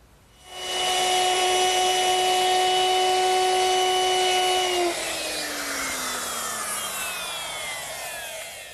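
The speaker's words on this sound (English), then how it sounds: "now we'll just round off the edges using the router" An electric router fitted with a 3/8 inch round-over bit spins up and cuts along wooden edges, a loud steady whine that drops in pitch as it winds down, with no talking.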